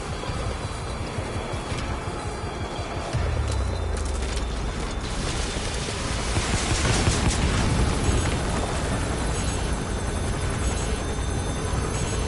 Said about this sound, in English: That's an enemy gunship. Airborne enemy approaching.